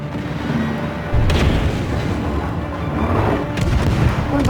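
Naval gunfire in World of Warships, with heavy battleship shells firing and striking targets: a deep rumbling boom lands about a second in, then sustained loud artillery rumble with another burst near the end.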